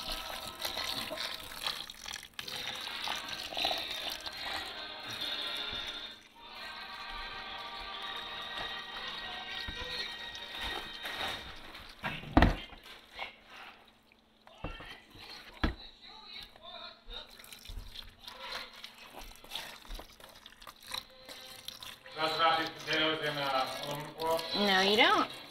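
Water poured and splashing into a tub holding herb plant pots during garden planting, a steady running gush with drips, while people talk throughout.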